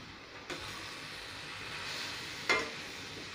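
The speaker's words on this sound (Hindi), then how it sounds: "इसी स्टेज पे हम डाल देंगे पत्ते गोभी" Cabbage is tipped into a pan of sizzling spices for a cabbage and potato curry, giving a steady soft frying hiss with a couple of brief clanks of stirring, close and with no talk.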